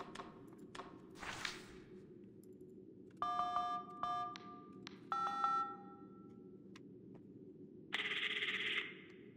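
Seven telephone keypad tones from dialing a number in the Five Nights at Freddy's video game, sounding as two groups of sharp close beeps with short gaps between them and one last tone, with no one talking.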